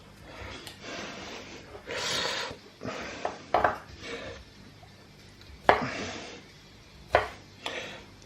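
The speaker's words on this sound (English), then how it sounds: "we are just literally chopping them" Cherry tomatoes chopped with a knife on a cutting board, making a series of sharp, close knocks at an irregular rhythm, with softer scraping and board taps in between.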